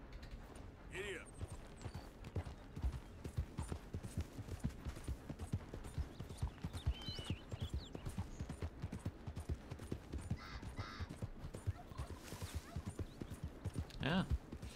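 Horse hooves clip-clop steadily in Red Dead Redemption 2, a continuous rhythmic trot through the whole stretch, with game speech and faint ambient sounds over it.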